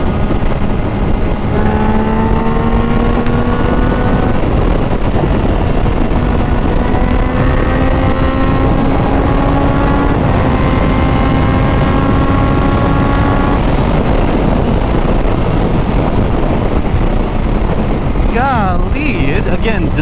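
Triumph Daytona 660 sport motorcycle accelerating hard, its engine note rising in several climbing sweeps through the gears under heavy, constant wind rush, with a rider talking over it.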